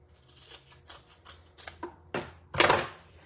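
A foam adhesive sheet is cut into thirds with a series of close crisp snips and slices, irregular and growing louder, ending in a longer rasping cut, with no talking.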